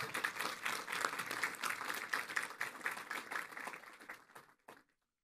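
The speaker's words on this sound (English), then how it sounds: "Let's give everybody a round of applause." A crowd at a church baptism service claps steadily for several seconds, a dense patter of hands that fades out near the end.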